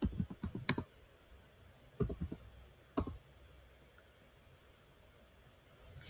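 Fingers type a short command on a computer keyboard, a few crisp clusters of key clicks separated by pauses, close and clear over a faint hiss.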